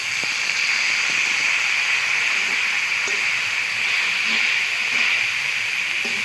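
Water added to a pan of fried fish and spices sizzles with a loud, steady hiss that holds evenly from start to finish, with no talk over it.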